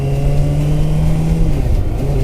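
A new motorcycle's engine hums loud and steady while riding, its drone shifting slightly in pitch toward the end.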